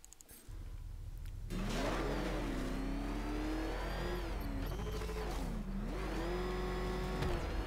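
A car in Batman Arkham Knight drives off after a quiet start, its engine revving and shifting pitch as it accelerates, loud and steady with brief dips, no talk.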